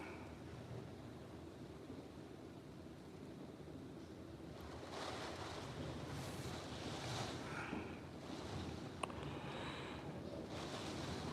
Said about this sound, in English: it just has gust and then there's howling